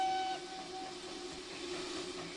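A train whistle in Transport Fever 2 gives a clear steady tone near the start, then fades into a soft hiss and a low rumble, with no talking.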